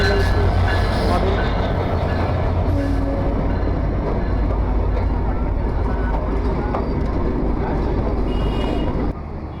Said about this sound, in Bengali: আমাদের ট্রেন কিন্তু ইতিমধ্যে কুষ্টিয়াকুর রেলওয়ে স্টেশনে কিন্তু চলে এসেছে